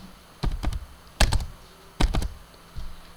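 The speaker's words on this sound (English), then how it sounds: "every time I want to type sine on the keyboard" Typing on a computer keyboard while entering a sine calculation, four clusters of quick close key clacks with short pauses between them, no voices.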